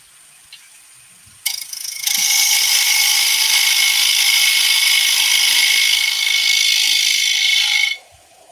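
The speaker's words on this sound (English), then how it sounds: "Now, I generally cut the tenons in with a skew chisel." A wood lathe spins steadily for about six seconds while a skew chisel cuts tenons on a pagoda box part. A sharp start gives way to a loud, even whir that stops abruptly near the end.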